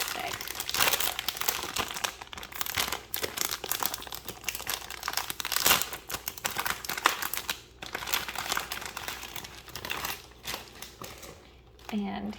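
Plastic packaging of a Velvet Rose Bonnie doll being opened, with steady crinkling and crunching that runs almost without pause, loud and close.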